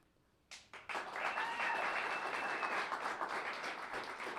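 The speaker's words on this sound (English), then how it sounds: "keep the applause going for Alejandro Jimenez" An audience bursts into applause after a spoken-word poetry performance at a First Friday event, starting with a few quick claps before swelling into sustained, even clapping from a fairly large crowd, heard at moderate distance with a few cheers woven in.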